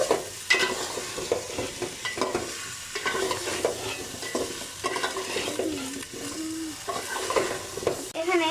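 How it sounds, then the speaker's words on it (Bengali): Raw sweet pumpkin being stirred in a large cooking pot for a curry with dried fish, steady scraping and clinking strokes over a continuous sizzle, close and moderately loud. "এটা ভালো করে নেড়ে তারপর আমি এখানে কাঁচা মিষ্টি কুমড়োগুলোকে দিয়ে দিলাম"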